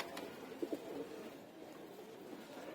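Pigeons cooing at a home loft where young birds are bathing, a few soft low coos close by over a quiet, faint background.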